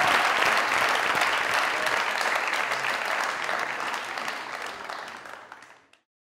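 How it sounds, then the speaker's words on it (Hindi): Studio audience applauding a guest on a talk show, a dense burst of clapping from a crowd that stays full and steady, then fades out and stops near the end. "जोरदार ताली हमारी आज की मेहमान।"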